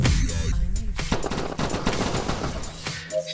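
Weapon fire in the VR video game Dimension Hunter, a dense cluster of sharp rapid shots and electronic effects, loud and close, tapering off toward the end.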